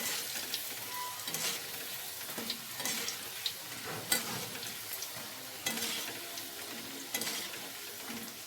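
Wheat-flour golgappa puris fry in hot oil over high heat, a fairly quiet, close bubbling sizzle with soft stirring and flipping knocks recurring every second or so.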